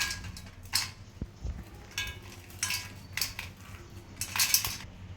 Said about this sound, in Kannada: ನೋಡ್ರಿ ಸೌಂಡ್ ಹೆಂಗೆ ಬರ್ತಾವೆ ನೋಡ್ರಿ, ಎಷ್ಟು ಕ್ರಿಸ್ಪಿ ಆಗ್ಯಾವ ನೋಡ್ರಿ